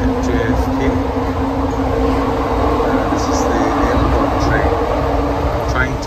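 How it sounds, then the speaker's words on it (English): Riding the train at JFK airport, a constant loud rumble and hum of the rail car with air-conditioning drone and occasional squeaks, a voice talking over it. "So I'm on the train at JFK."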